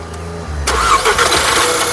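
A 2012 or 2013 Skoda Superb petrol engine cranks briefly and catches at once, then settles into a steady close idle; no voices.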